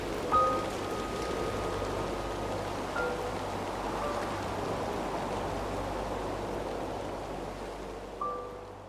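Steady rainstorm in Red Dead Redemption 2, heard from inside a cabin, a constant close wash of rain on the roof and surfaces with a low rumble beneath and a few faint tonal chimes, no voices.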